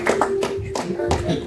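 A church congregation clapping in acclaim of the Lord, a short burst of close, uneven hand claps in a few separate strikes, with a voice speaking over part of it.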